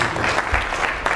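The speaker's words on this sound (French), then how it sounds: "je vous demande de l'applaudir" Dense audience applause at a start-up golf challenge event in Paris, a steady wash of clapping throughout the short moment, close and loud with no talk.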